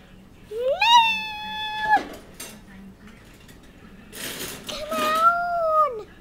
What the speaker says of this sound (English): It's a giant kitty cat!